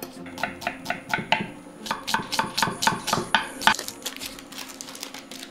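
Sharp knife chopping onions on a cutting board, a steady run of crisp close knocks, about a dozen regular strokes, then quicker lighter cuts.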